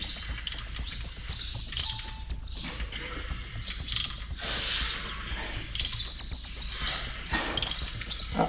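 A diesel engine in a VW T25 van, glow plugs removed, is turned over by hand at the crankshaft during timing belt work, giving steady mechanical creaks and ratchet-like clicks at close range with no talking.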